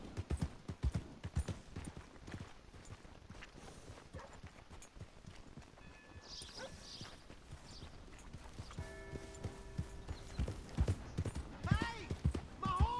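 Horse hooves clip-clopping in the Red Dead Redemption II video game, a run of uneven, close thuds that builds toward the end, with other game sounds and a tonal call mixed in.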